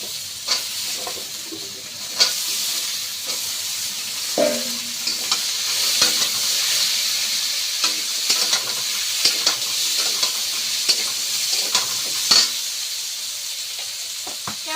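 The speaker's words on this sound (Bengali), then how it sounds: "পেঁয়াজ আর কাঁচা লঙ্কা দিয়ে দিচ্ছি তেলটা হয়ে গিয়েছে এবার সবজিটা দিয়ে দিচ্ছি" Vegetables with onion and green chilli frying in hot oil, a loud, continuous sizzle and hiss with scraping stirs and occasional spatula knocks throughout.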